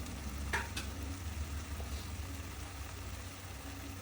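Turmeric, chili, coriander and pepper powders sauté in a pan for a Kerala coconut-milk fish curry with velapara fish, making a steady, even sizzle with a couple of sharp utensil clicks near the start.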